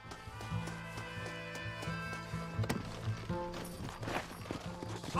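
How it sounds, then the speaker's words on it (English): A horse gallops in the video game Red Dead Redemption, with rhythmic hoofbeats under a background musical score, fairly close and moderately quiet, with no speech. "Get on your horse. We have to get to the train."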